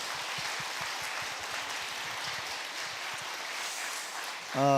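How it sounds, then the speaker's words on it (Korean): A church congregation at a Sunday worship service applauds in thanks, a dense, even wash of clapping that runs steadily throughout, with a voice starting up at the very end. "우리 수고하신 모든 분들께 한번 감사의 박수 드리겠습니다."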